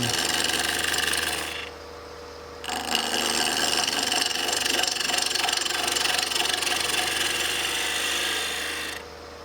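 A spindle gouge cutting spalted beech on a lathe during eccentric turning, giving a steady loud rasping scrape that stops briefly, then resumes and runs continuously before cutting off.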